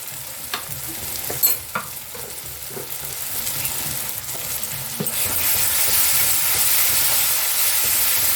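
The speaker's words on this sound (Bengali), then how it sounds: "মশলাটা আমি খুব ভালো করে ভাজবো যতক্ষণ না তেল ছেড়ে দিচ্ছে।" A spice paste with mustard seeds and green chilli fries in oil for a Bengali rui fish curry. Scraping stirs and soft crackles come first, then the hissing sizzle swells and holds loud and close.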